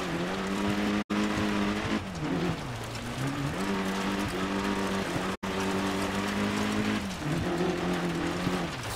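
Dirt Rally 2.0 rally car engine droning loudly and steadily as it handbrakes through a hairpin, the pitch dipping and climbing again with tire scrub, two brief dropouts breaking the sound.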